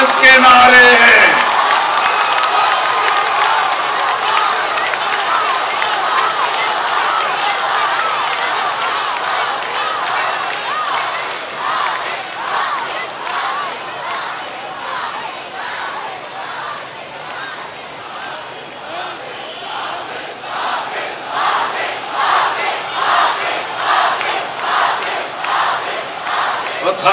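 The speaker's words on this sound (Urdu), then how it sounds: "یہ ہمارے حافظ کے نعرے ہیں" Large outdoor crowd chanting political slogans in rhythmic unison at a Jamaat-e-Islami gathering, sustained and loud for the whole stretch with pulsing repeated phrases and a noisy burst at the start.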